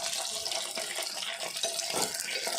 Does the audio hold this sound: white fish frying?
yes